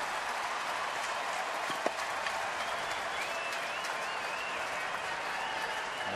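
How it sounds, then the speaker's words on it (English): Baseball fans applauding steadily throughout a stadium during a Houston home game against Philadelphia, a broad, even wash of clapping and crowd noise with no break. "the fans applauding as they realize they're within 1 out of closing the door on this talented Philadelphia club"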